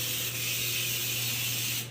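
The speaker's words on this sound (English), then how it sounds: "I'm just gonna really give it a good spray, making sure I get all these nooks and crannies" Pam baking spray with flour mixed in hisses into a muffin tin in one loud continuous close-up burst lasting about two seconds, with no one talking.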